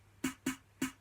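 Three crisp, bright snare drum hits from a high-end sample played on its own, evenly spaced and short, quiet and close with a sharp attack and quick decay, no voice.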